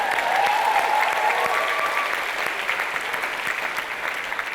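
A campus audience at a speaking event breaks into loud sustained applause, dense clapping that slowly thins out toward the end.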